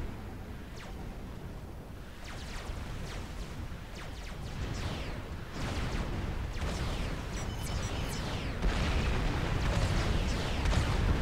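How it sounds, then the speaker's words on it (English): Artillery barrages in the strategy game Forged Alliance Forever pound a forward position, a dense continuous roar of overlapping booms and blasts that builds steadily louder, with no talk. "This forward position is going to be overwhelmed by the artillery that Deponi's brought as part of his force"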